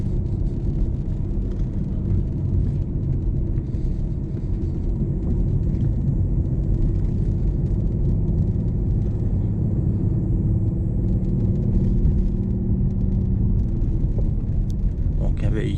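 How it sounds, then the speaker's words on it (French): A BMW i8 Protonic Frozen Yellow Edition driving calmly, heard from inside the cabin as a steady, low, muted road-and-engine rumble that holds evenly throughout, with a person talking over it. "Véhicule très confortable, très silencieux quand on roule très calmement."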